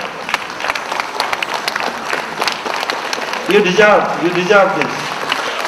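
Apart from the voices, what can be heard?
loud applause from audience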